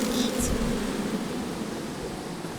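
A steady, dense buzz of a swarm of bees in Psychonauts 2, a continuous droning hum holding at fairly even loudness throughout with a brief higher whine near the start.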